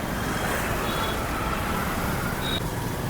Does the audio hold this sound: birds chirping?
no